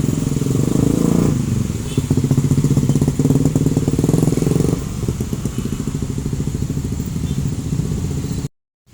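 A Sumber Alam VIP-class intercity bus on the Jakarta–Jogja route rumbles past close by, a steady loud diesel drone with clattering and rattling that eases slightly partway through before cutting off abruptly near the end.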